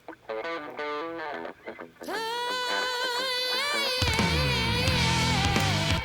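Electric guitar starts with short plucked phrases, then swells into sustained, bending notes washed in long, echoing reverb.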